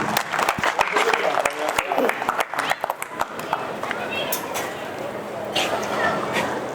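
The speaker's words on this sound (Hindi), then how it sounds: "एकत्र होकर ताली बजाएं।" An audience at a Hindi poetry gathering (kavi sammelan) bursts into loud, dense clapping that rolls on and then thins into a noisy crowd murmur, with voices heard over the hall.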